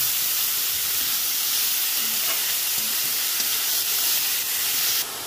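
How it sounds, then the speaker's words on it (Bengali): Shredded cabbage frying with salt in a pan, for a Bengali bandhakopi paratha filling, giving a steady, dense hiss and sizzle that stays even and close throughout, with no talking. "এবার আমি এর মধ্যে দিয়ে দেবো বাঁধাকপি কাটাটা, নুন দিয়ে দেবো, দিয়ে ভালো করে ভেজে নেব"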